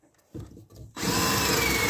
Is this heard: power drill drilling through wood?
yes